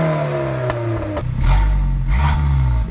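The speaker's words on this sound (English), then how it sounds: "this is how the Miata used to sound" A Mazda Miata with a custom exhaust revs close by, its engine rising and falling through a couple of throttle blips with a raspy, clattering note.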